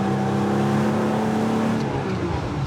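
A BMW 3.0 CSL Batmobile engine drones steadily while driving, a loud, continuous mechanical hum heard from inside the car with no talk.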